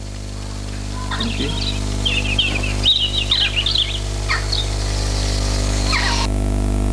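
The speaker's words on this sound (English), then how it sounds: "And the birds are singing." Birds sing among the trees of a garden in the evening, with a scatter of clear chirps and short warbling phrases over a steady low hum that then fades to quiet.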